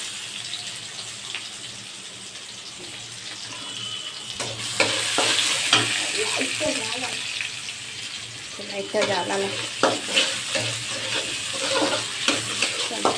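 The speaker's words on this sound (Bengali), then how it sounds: "এই যে একটু গোটা জিরা ফোড়ন দিয়ে দিলাম" Whole cumin seeds hit hot oil in a Bengali home kitchen, a sustained sizzle with crackling bursts and stirring scrapes, growing livelier partway through.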